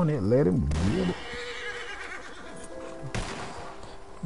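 A horse gives a loud, close whinny that rises and falls in pitch, followed by rough noisy commotion and a sharp crash-like burst near the end.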